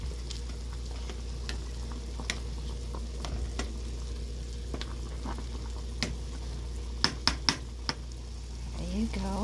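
Vegetables for tuna tamarind soup are stirred in a simmering pot, a steady low bubbling broken by scattered utensil clicks and a quick run of sharper scrapes near the end.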